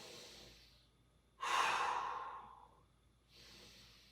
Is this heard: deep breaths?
yes